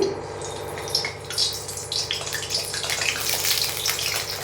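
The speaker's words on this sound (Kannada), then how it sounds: "ನಾನೀಗ ನೋಡಿ ಎಣ್ಣೆ ಬಿಸಿಯಾಗಿದೆ ಈಗ ಬದನೆಕಾಯಿ ಇದರಲ್ಲಿ ಹಾಕ್ತಾಯಿದ್ದೀನಿ" Brinjals (eggplant) for an Andhra-style stuffed dish dropped into hot oil, giving a steady crackling, spattering sizzle close by with no talking.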